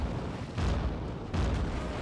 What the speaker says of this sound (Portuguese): Vou dar um tiro de advertência